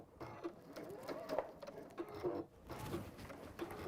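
A sewing machine stitches fabric around a corner in short, quiet bursts, pausing between runs as the work is lifted and readjusted.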